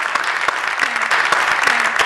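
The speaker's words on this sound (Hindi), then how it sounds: "जोरदार तालियां" Loud, steady applause from a studio audience on a celebrity talk show, many hands clapping in a dense, continuous burst that holds its level to the end.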